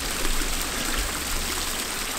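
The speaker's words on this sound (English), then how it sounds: "I've discovered a really cool little waterfall" A small waterfall pours off the top of a crag in the Scottish Borders, a steady close rushing and splashing wash of water with no pauses.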